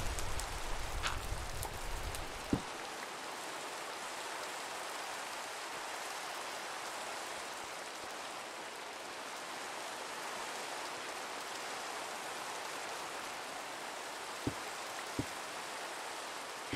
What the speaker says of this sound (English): Can I sleep away this rain?